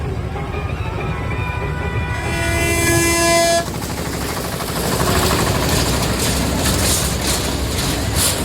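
A train passes close by at a puja celebration in Dhenkanal, its horn blaring in a long sustained blast before cutting off, followed by the loud continuous rumble and clatter of the rail cars.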